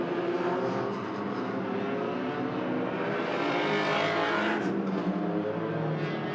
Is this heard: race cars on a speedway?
yes